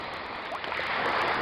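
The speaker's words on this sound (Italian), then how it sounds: "ecco come si presenta il mare" Sea waves wash continuously onto Pastena beach in Salerno on a summer midday, a steady broad hiss of surf rising slightly louder toward the end, with no voices.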